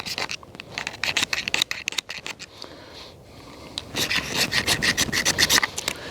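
A knife's spine is scraped along a ferro rod in a run of quick, raspy strokes, with an uneven rhythm and a short lull midway, then a denser burst of loud, close scraping toward the end.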